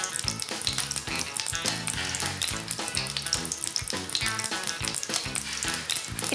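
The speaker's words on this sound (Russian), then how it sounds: "начинаем жарить наши блинчики" Steady, busy frying sizzle fills the clip, crackling and popping continuously as pancake batter cooks in a hot pan, close and fairly loud.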